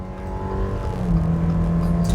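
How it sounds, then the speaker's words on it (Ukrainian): A 2022 Subaru Forester Limited with a 2.5-litre automatic accelerates from zero toward 100 km/h, uphill and into a bend. Heard from inside, the engine drone is loud and steady and rises gradually in pitch. "Пробуємо розгін від нуля до сотні, рухаємося ми в горочку і в поворот."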